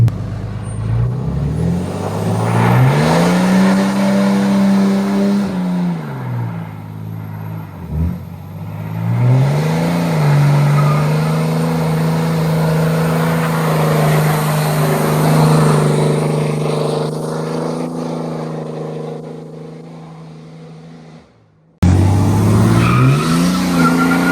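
A 4th generation Cummins diesel pickup, set up as a low-profile race truck, roars through a sustained burnout, its engine droning and revving in loud rising and falling sweeps with tire squeal, cutting out briefly near the end before resuming.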